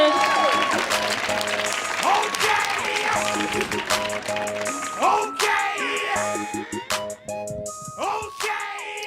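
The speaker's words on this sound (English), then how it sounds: "Y'all, please give a round of applause for Drew Anderson." An audience at a poetry performance claps loudly for a poet while someone speaks over the applause, which holds steady and then thins toward the end.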